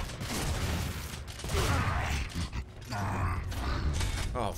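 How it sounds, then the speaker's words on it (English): A heavy door creaks open in the video game Gears of War 2, a long grinding creak with mechanical clanks, loud against background gunfire. "Oh, okay, now the door's open."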